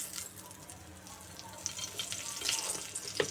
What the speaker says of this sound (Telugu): ఇప్పుడు అదే కళాయిలో ఇంకొక స్పూన్ నూనె వేసుకొని దాంట్లోకి ఒక బిర్యానీ ఆకు